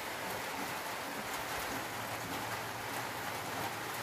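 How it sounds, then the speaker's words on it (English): Steady rain falls in a continuous soft hiss, faint and even throughout, with no voices. "It's raining."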